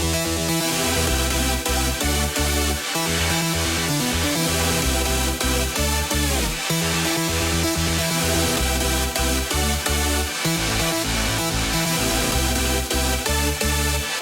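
Grouped synth arpeggiator and lead glued with multi-band compression, a loud, dense electronic passage with a pulsing low end and rapid repeating synth notes under a bright lead, no voices.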